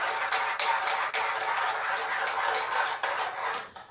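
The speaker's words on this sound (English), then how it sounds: "you just stir it up till it's good and dissolved" A spoon clinks repeatedly against a coffee cup while stirring sugar into coffee, a run of bright metallic taps in uneven rhythm, close and moderately loud, with quieter gaps between clusters.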